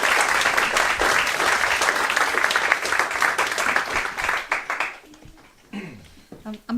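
Audience clapping to welcome a speaker on stage, a close, dense round of applause with distinct individual claps that tapers off near the end, followed by a few scattered claps and a voice.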